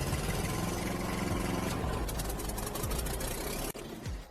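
A bulldozer engine in Farming Simulator 22 runs steadily and loud with a low rumble and knocking mechanical clatter, briefly dipping near the end before carrying on.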